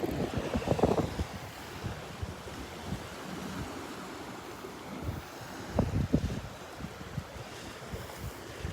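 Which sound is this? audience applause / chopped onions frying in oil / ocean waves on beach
ocean waves on beach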